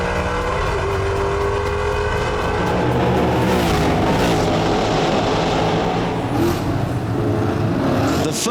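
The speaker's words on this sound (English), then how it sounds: "When you go over the start line, You know when the first guys have gone over because there's this massive wall of sound goes" Ford Mustang race cars thunder over the start line at Le Mans in the Mustang Challenge, a loud, continuous wall of engine roar with revving and cars passing close by.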